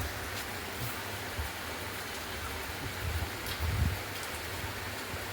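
Village rain falls in a steady, soft wash of patter with a few closer drips and dull thumps, moderately loud and continuous, with no voices.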